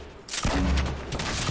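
Rapid minigun fire in an online shooter video game, a loud dense burst of shots with sharp transients and heavy low-end thump, sustained for over a second.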